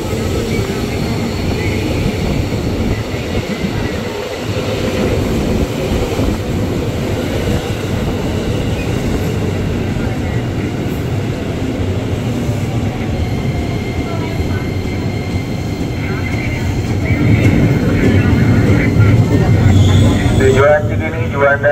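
A KRL commuter train rolls into Manggarai station with a loud, continuous rumble and screech of wheels on rail, growing heavier toward the end as it nears.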